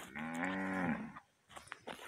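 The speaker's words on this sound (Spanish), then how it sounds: "Ahí traigo las vacas detrás de mí." Cows moo behind a walker on rural land near the river at El Cedro, Guamuchal, Jalisco, Mexico: one long, loud, close moo, then quiet pauses broken by faint rustling and scuffs.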